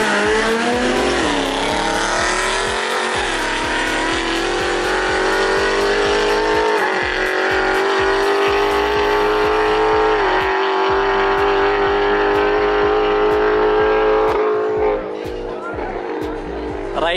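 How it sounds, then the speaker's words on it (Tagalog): Honda Civic and Ford Mustang cars bracket racing, with loud engines revving and droning steadily, pitch rising through gear changes, while a voice talks over the noise. "So laban dito, bracket racing."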